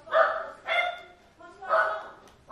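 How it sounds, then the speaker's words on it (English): A dog barking from downstairs in a home, three or four distinct barks at a moderate distance, each followed by a short gap. "I don't know what my dog is doing downstairs."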